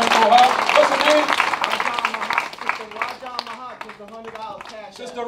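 An audience at a gathering in Coldwater, Michigan claps to thank a donor. The clapping is strongest at the start and fades as a voice talks over it and takes over.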